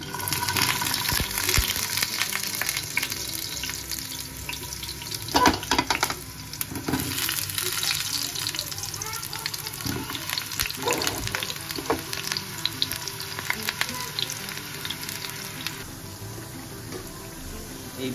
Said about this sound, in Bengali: অন্য একটা গ্যাসে আমি আলুগুলোকে একটু ভেজে নেব।